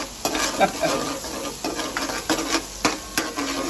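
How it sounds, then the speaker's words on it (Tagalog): Onion and garlic frying in a pan while being stirred, with a steady sizzle under irregular scraping strokes of a utensil, close up and with no talk. "Hintayin lang natin siyang golden brown yung sibuyas at bawang."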